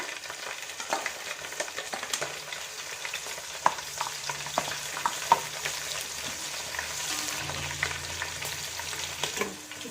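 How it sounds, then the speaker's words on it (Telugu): Green chilies sizzle and crackle steadily in hot oil for Hyderabad-style bagara rice, a continuous dense frying hiss with scattered pops and occasional utensil clinks, close and fairly loud with no talking. "ఫస్ట్ పచ్చిమిర్చి వేసుకోవాలి ఎప్పుడైనా, ఎందుకంటే ఫ్లేవర్ మంచి ఆయిల్లో పట్టుకుంటుంది"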